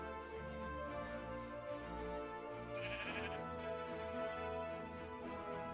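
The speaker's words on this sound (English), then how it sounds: "I heard a sheep." A sheep in the Minecraft modpack GregTech New Horizons bleats in soft, wavering cries against a quiet, steady in-game background.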